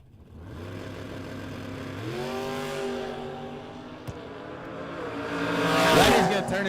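A 1967 Camaro race car on a drag strip launches with a loud idle swelling into rising revs, a sharp pop midway, then a hard accelerating roar building toward the end.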